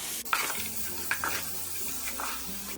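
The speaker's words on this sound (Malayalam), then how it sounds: "ഇനി ഇത് നന്നായിട്ടൊന്ന് ഇളക്കി കൊടുക്കാം." Chicken pieces with yogurt stirred in a sizzling pan, giving a continuous close frying hiss with a few soft scraping strokes of the spoon.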